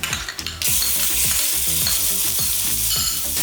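Curry leaves and ginger-garlic paste dropped into frying cumin and desi ghee for qeema kachori, bursting into a loud, dense sizzle after a brief quieter moment and holding steady close up.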